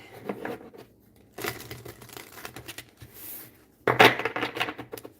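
Deck of playing cards being shuffled, three bursts of riffling and flicking separated by short pauses, close and fairly quiet.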